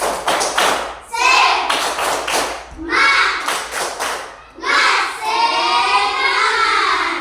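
A group in a training room claps a rhythmic spirit clap, sharp hand taps in quick patterned bursts, loud and close, alternating with chanted group voices between the clapping phrases.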